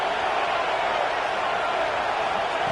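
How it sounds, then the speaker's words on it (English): Stadium crowd at a Clemson vs Michigan college football game, a dense, continuous roar of cheering and noise that stays at a steady level. "Listen to the crowd energy here in the early going."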